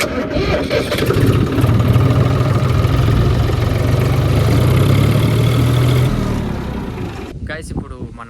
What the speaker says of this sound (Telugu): ట్రాక్టర్కి స్టార్ట్ చేద్దాం.